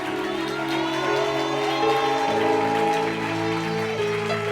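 Crowd applause and cheering from a church congregation at a prophetic seers' meeting, a thick continuous roar of clapping and voices over sustained keyboard chords that change partway, loud and even throughout.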